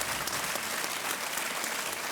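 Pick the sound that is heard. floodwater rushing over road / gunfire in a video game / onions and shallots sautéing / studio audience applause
studio audience applause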